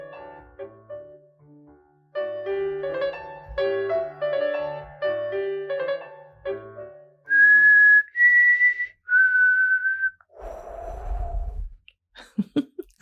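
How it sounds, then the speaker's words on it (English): A person whistles the theme from Close Encounters of the Third Kind, first as a run of clear tonal phrases, then as several long held high notes. A lower breathy attempt follows near the end, with no speech. "I was trying to whistle the theme from Close Encounters of the Third Kind"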